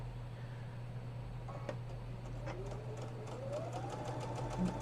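A sewing machine stitches fabric at a sew-along, running as a steady low mechanical hum with a faint rising whir near the end, fairly quiet, with no talking.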